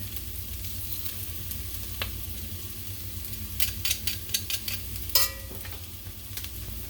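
Minced garlic sizzles steadily in a hot pan turned down to medium alongside ground beef, a close continuous crackle with a run of scraping stirs and clinks in the second half.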